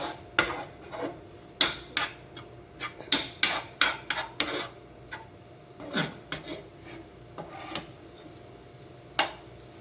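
Egg and other food being mixed in a cooking pan, heard as a series of close metallic scrapes and taps of a utensil against the pan, irregular and fairly quiet, with no talking.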